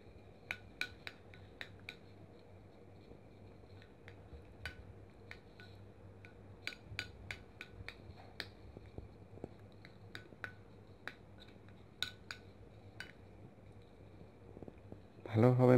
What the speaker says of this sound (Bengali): গুঁড়া, হলুদ, লেবুর রস এবং মধু সবগুলো একসঙ্গে ভালোভাবে মিশ্রিত করুন